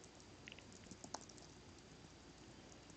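Faint, sparse keystrokes from typing on a keyboard balanced on a leg, a few soft scattered clicks over quiet room noise.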